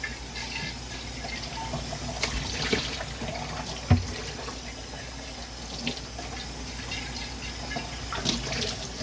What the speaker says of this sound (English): This stage is just lots of rinsing.